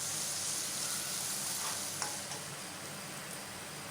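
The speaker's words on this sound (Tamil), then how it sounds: "அதில் சாப் பண்ண கேபேஜும் கேப்சிகமும் சேர்த்துக்கலாம். இது எல்லாமே ஒரு 2 நிமிஷம் திரும்பவும் ஃப்ரை பண்ணலாம்." Cabbage and capsicum fry in a pan with a steady close hiss and sizzle, broken by a couple of soft stirring scrapes, no voices.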